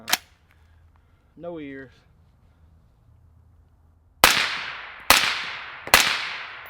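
Three suppressed 5.56 rifle shots through a Black Anchor Tactical Nautilus suppressor, sharp and loud, spaced about a second apart outdoors after a brief spoken phrase.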